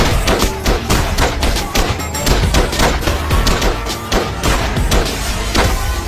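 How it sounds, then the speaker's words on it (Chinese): Guards on a prison wall fire on rioting inmates in a film scene, a loud, rapid barrage of overlapping gunshots and heavy thuds that runs without pause. "城墙上的警卫对他们不断射击"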